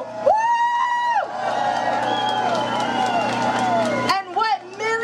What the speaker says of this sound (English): So give yourself a warm round of applause.